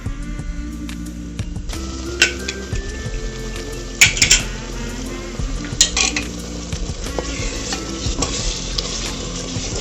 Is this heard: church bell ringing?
no